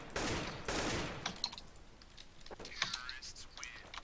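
Gunfire in the video game Counter-Strike: Source: a rapid burst of shots opens, followed by scattered quieter clicks and taps, with people talking over it.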